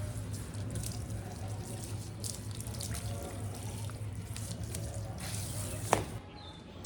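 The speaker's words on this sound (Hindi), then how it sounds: "इसको थोड़ा पानी दे देते हैं" Water is poured from close by onto a tiger bark ficus bonsai, a continuous trickling splash into the soil that tapers off near the end, with a couple of small knocks.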